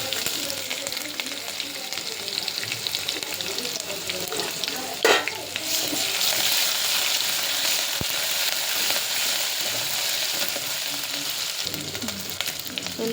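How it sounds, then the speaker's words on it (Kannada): Onion, curry leaves and ginger-garlic paste fry in hot oil over a high gas flame, giving a steady sizzle with occasional stirring scrapes and no voices. "ಚಲೋ ಫ್ರೈ ಮಾಡಬೇಕಿದೆ ಎಣ್ಣೆಗೆ."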